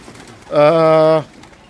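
A Lal Pari pigeon kept at home gives one loud, close, rich coo, a harmonic-laden call lasting under a second over faint background noise.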